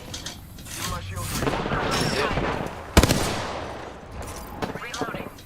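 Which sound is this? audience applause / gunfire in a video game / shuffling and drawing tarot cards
gunfire in a video game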